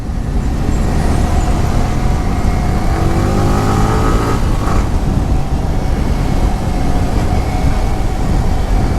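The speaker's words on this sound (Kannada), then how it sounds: "ಪಾಕೆಟ್ ರಾಕೆಟ್ ಗಾಡಿ ಹೋಗ್ತಾ ಇದೆ ನೋಡೋಗುರು" Yamaha R15 V3 motorcycle riding on the road, loud continuous engine drone and wind rush heard from the rider's position, with a brief rising rev near the middle.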